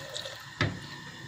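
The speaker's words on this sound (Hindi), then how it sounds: "एथि मु पूरा ग्लास टी पानी दूची।" A glass of water splashes into a pressure cooker of pav bhaji vegetables, one brief wet splash in the middle over steady kitchen background noise.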